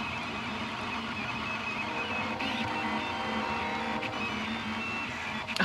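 A 3D printer runs in a closet, its stepper motors giving off a continuous whirring, tonal hum with small shifts in pitch and a few faint clicks, and no voices present.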